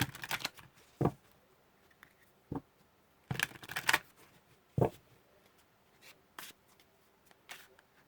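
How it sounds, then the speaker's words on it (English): Tarot cards are shuffled and handled in scattered bursts, with soft riffling pops and slaps separated by quiet pauses, close and faint. "And then lastly is the tarot cards for the weekly reading."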